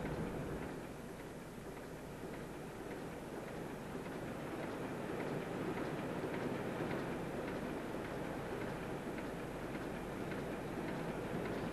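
An old gas engine runs at the Shad Thames pumping station, a 1982 scene of slow-running machinery with rotary magnetos, giving a continuous low mechanical drone with a faint steady beat, moderately quiet and without speech.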